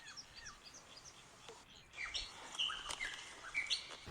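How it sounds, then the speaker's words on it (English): Birds chirp and call in an open outdoor gorge at Werribee Gorge, Victoria, Australia, several short tweets overlapping with frogs against a soft natural background, growing busier toward the end. "You can just hear all the birds and the frogs."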